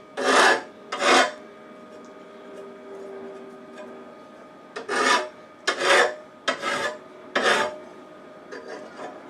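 A steel lawn mower blade edge being sharpened to take off the burr: several separate rasping, grinding strokes in short bursts with pauses between, close and fairly loud, with no talking.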